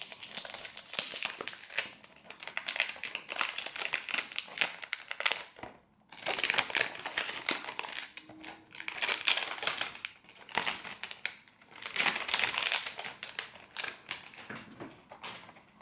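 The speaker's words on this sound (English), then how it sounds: "some people like the sound of the plastic being removed." Crinkly plastic wrap being peeled and torn off a black-and-gold Cabochard Grès eau de parfum box, close and continuous crackling in three long bursts with brief pauses, no talking.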